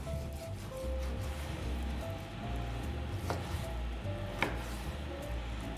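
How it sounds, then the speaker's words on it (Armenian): Fatty beef being cut into convenient pieces on a board, with a couple of distinct knife thuds against a soft background hum and no speech. "Կտրատում ենք հարմար կտորների"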